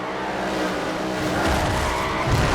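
A V8 Supercar in Forza Motorsport 4 skids off the track onto dirt and into a wall, tires squealing over a roaring engine that swells louder toward the end, close and without talk.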